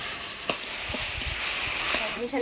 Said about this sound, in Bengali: শাক ভাজি নিলাম এবার নামিয়ে নিলাম